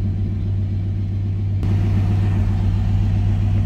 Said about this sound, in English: With this older Chevy pickup truck here.